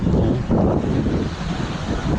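Steady wind buffets the microphone at a public beach in Pattaya, with the broad wash of surf rolling underneath in a continuous loud roar.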